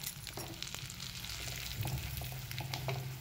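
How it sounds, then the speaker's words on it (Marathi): Semolina roasting in one or two spoons of ghee in a pan gives a soft, steady sizzle with light stirring scrapes, quiet and close. "त्याच्यात आपण तूप टाकायचं आहे, 1-2 चमचे तूप टाकायचं आहे, आणि त्याच्यात रवा आपण भाजून घ्यायचं आहे"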